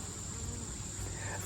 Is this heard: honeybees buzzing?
yes